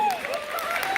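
Audience applause at a children's live stage performance of Ksheera Saagara Mathanam in Toronto, with steady dense clapping and crowd noise throughout, while a voice speaks over it.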